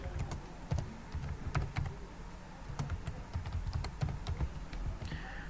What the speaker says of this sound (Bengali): প্রথমে আপনাকে একটা কিওয়ার্ড লিখে সার্চ করতে হবে